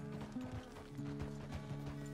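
Horse hooves clip-clop in Red Dead Redemption 2, a quick, steady rhythmic clopping heard fairly quietly under layered game music and ambience.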